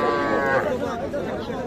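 A young bull calf, about three months old, moos in a drawn-out, low, harmonic call at the Ambari cattle market, with a murmur of crowd chatter in the background.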